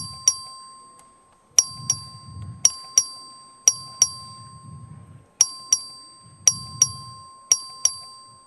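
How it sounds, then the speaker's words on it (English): The clerk's voting bell rings in the Texas House of Representatives chamber during a record vote. Bright, clear dings sound in quick pairs and triples with pauses between them, over a faint murmur of the room. "The clerk will ring the bell."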